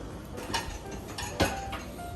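Oxtail stew gets stirred in a STAUB Chistera pot, a few soft scrapes and light metallic clinks of a utensil against the pot, faint and close, spaced unevenly.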